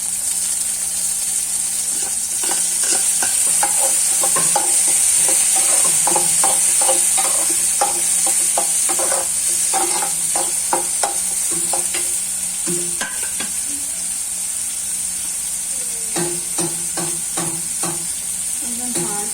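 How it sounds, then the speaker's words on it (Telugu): Tomatoes fry with onions in a pan, a steady sizzle under repeated scraping and clinking strokes of a spoon stirring the mixture, close up and continuous. "ఇప్పుడైతే టమాటోస్ అయితే నేను ఫ్రై చేసుకుంటున్నాను."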